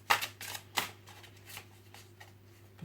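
Tarot cards are shuffled in soft, quick papery bursts, a few crisp riffles followed by fainter ones, quiet and close over a low steady hum.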